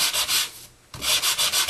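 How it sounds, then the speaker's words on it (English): A sanding block rubs back and forth along paper edges for a distressed look, loud rhythmic scratchy strokes close by, with a brief pause midway before the strokes resume. "I'm just going to sand that around the edges."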